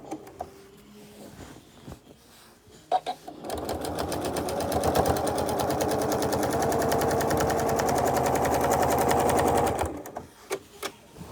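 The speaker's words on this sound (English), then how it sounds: "I'm working on quilting a memorial quilt for a client." A sewing machine machine-quilts a large memorial throw quilt, running steadily for about six seconds in a fast, even rattle after a few short bursts and clicks, then stopping.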